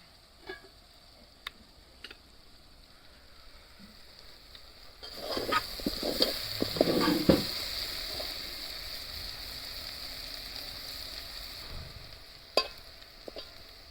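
Broad beans (chikkudu kaaya) frying in a pan give a soft sizzle that swells partway through with a burst of stirring clatter, then settles into a steady hiss with a few faint clicks.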